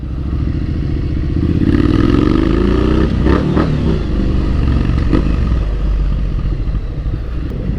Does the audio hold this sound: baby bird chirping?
no